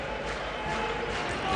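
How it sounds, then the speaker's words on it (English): A Euroleague Final Four basketball arena crowd during the Panathinaikos vs TAU Ceramica semifinal, a steady dense roar of spectators filling the hall, with a commentator's voice over it. "Crowd is into it."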